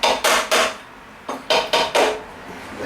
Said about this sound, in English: I just use this hammer so I don't beat it down too much.